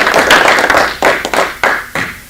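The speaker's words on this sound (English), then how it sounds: "Give him a round of applause." A few people clap loosely for a speaker at a Rotary Club meeting in Jonesboro, Sanford, NC. The claps are close and sparse, fading into separate claps that come at uneven intervals.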